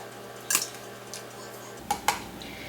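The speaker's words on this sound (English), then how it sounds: "I've got 2 forks here. Then I'm going to separate and pull apart the pork" Two forks pulling apart slow cooked pork, a few sharp metallic scrapes and clinks against the dish at sparse intervals, close and fairly quiet over a faint background hum.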